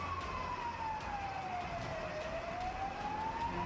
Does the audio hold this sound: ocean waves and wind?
no